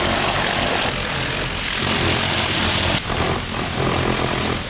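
A pressure washer spraying the engine bay of a Chevy Colorado truck: a loud, steady broadband hiss of water jetting against metal that runs unbroken throughout, with a brief dip near the middle.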